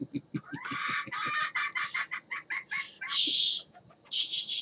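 A chicken clucks close by in a steady run of sharp, rhythmic bursts, with a couple of louder, higher squawks breaking in toward the end.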